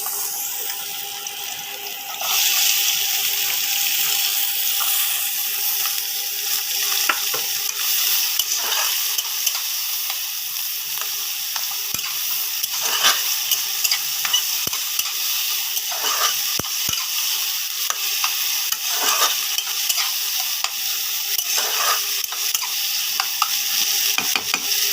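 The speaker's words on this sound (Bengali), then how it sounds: "বন্ধুরা তেল গরম হয়ে গেছে, এবার পেঁয়াজ কুচি লঙ্কা চিড়ে নিয়েছি আর টমেটো কুচি একসাথে দিয়ে দেবো" Onion, chili and tomato sizzle loudly in hot oil for chicken makhani gravy, a dense steady frying hiss with occasional stirring clicks from a spatula, close and continuous throughout.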